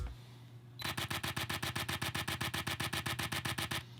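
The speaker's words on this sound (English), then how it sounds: "this is what the normal high-speed shutter sounds like" A Canon R5 camera's mechanical shutter fires in a rapid burst in high-speed mode: about twenty crisp, evenly spaced clicks in quick succession, recorded up close.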